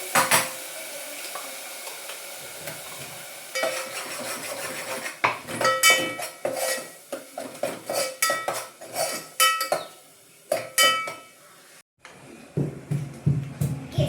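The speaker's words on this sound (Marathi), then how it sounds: "मसाला छानपैकी परतून घेऊ आता आपण" Masala for misal stir-fried in a pan, a quiet sizzle broken by frequent loud metallic clinks and scrapes of a spoon against the pan, coming in irregular bursts with brief pauses.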